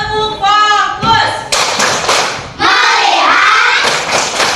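Classroom of students clapping together in a rhythmic focus-clap routine, bursts of sharp group claps and thumps alternating with a teacher and children chanting and talking loudly nearby.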